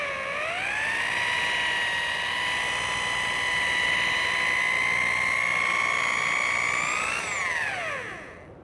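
A rotary polisher buffs car paint at about 7,000 RPM, a loud, steady high-pitched whine that rises at the start, holds for several seconds, then spins down at the end.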